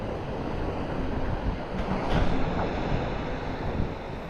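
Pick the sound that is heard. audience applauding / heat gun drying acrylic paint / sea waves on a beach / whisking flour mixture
sea waves on a beach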